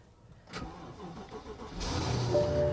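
A 2015 BMW 750i engine cranks and catches, then settles into a steady idle hum that follows a brief click.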